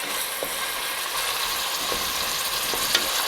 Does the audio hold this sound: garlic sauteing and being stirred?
yes